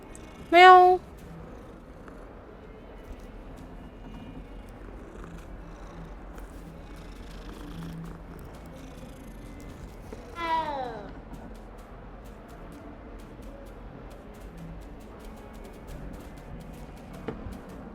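Cats in the Hogwarts Legacy video game purr softly and continuously throughout, broken by a short sharp meow near the start and a fainter drawn-out meow midway.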